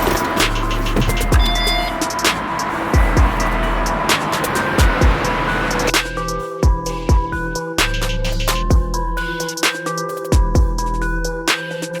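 A Tesla electric car driving down a hill, with a steady road and tyre rumble inside the cabin, soft repeated thumps and small rattles, and a shift to a quieter, more tonal hum partway through.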